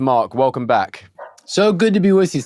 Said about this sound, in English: I apologize for the dogs in the background here